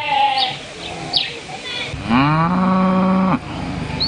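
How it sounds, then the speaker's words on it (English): Cattle moo in a rural community facing water scarcity, one long, loud, close call rising and holding for over a second, with fainter bleating animal calls and background noise before it. "We are accorded a rousing welcome by these cattle"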